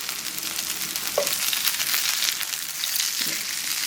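Vegetable moong patties fry in oil in a pan on the stove, giving a steady, close crackling sizzle with a couple of faint clinks and no talking.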